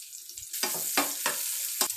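Garlic and chopped onion fry in hot oil, a close steady sizzle broken by several bursts of louder crackle as the pieces are stirred in the pan.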